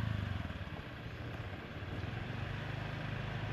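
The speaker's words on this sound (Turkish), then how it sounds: "İlk kez motor kullanıyor kendi başına." A motorbike in Krabi, Thailand, ridden by a beginner for the first time alone, hums at a low, steady idle with a faint pulsing putter, fairly quiet and heard alone without talk.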